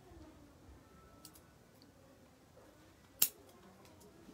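Scissors trimming a small Zelkova bonsai give one crisp, close snip near the end, with a few faint ticks before it against an otherwise quiet background.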